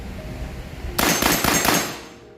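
A single 12-gauge shotgun shell fired during a recoil test, a sharp loud blast followed by a rough, rattling decay that fades out over about a second.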